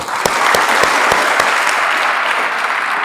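A crowd claps at a yoga workshop held at a school in Khair, Aligarh, with a few sharp individual claps at the start swelling into steady, fairly loud applause.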